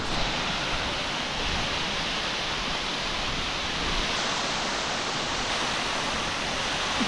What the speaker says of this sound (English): we have just come across this pretty sick waterfall